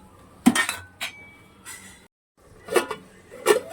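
Metal lid set onto a pot of cooking mutton keema in a home kitchen, several bright clinks and clanks scattered across a few seconds, close and clear with no talking.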